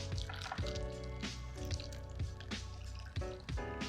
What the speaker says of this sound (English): pop the top, pour.